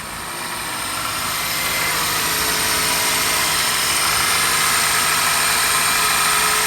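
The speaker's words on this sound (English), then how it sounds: "The rough idle seemed to clear up." A 2003 Toyota Corolla with a random misfire idles as it warms up, a steady loud engine drone with a constant hiss and no pauses.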